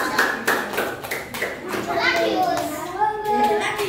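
Young pupils in a classroom give a short round of clapping for a classmate, scattered hand claps near the start mixed with children's chatter and voices that carry through the rest.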